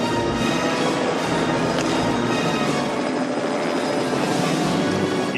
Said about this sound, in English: there's a real helicopter flying into this gorge